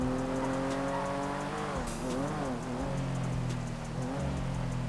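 Car driving in a video game: a continuous engine drone with shifting pitch as it revs and turns, a brief tire screech in the middle, steady and close with no talking.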